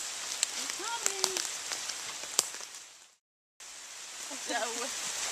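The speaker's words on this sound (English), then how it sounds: "So now we're walking a nice heavy downpour." Heavy rain pours down in a wildlife sanctuary near a brook, a dense steady patter of drops with a few louder close hits, briefly cutting out, while birds call faintly in the background.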